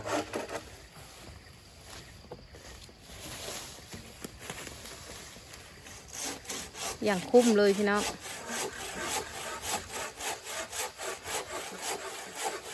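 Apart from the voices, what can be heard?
hand saw cutting firewood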